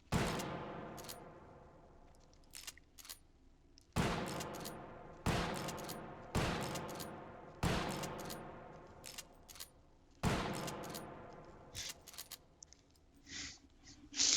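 Winchester 1894 lever-action rifle fired in the VR game Hot Dogs, Horseshoes & Hand Grenades: six loud, sharp shots spaced a second or two apart, each followed by metallic clicks of the lever cycling and small rattles between.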